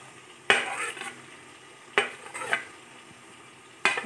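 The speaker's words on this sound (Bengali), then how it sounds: "এবার একে একে সব সবজিগুলো রাইসের ভিতর দিয়ে দেবো। বিনস, গাজর," Beans, carrots and capsicum tossed into fried rice in a pan, three sharp clanks of a utensil on the pan with soft stirring and scraping between them.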